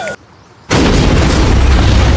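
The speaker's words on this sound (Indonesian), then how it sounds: "menembak mobil James sehingga membuat ledakan besar" A car struck by rocket-launcher fire in the 2024 action movie Armor erupts in a huge explosion, a sudden deafening blast that bursts out of near silence and roars on without letup.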